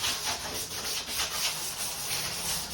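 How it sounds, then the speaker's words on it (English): Steady, gentle sanding strokes rasp across a painted door in a continuous rhythmic rubbing, close and fairly even, with no talking. "I'm just doing just a light sand"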